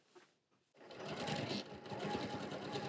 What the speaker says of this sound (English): So let's just get one of those sewn.